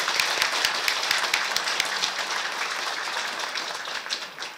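An audience at a real-estate brokers' resolution rally against rental fraud breaks into loud sustained applause, a dense clapping roar that slowly thins out.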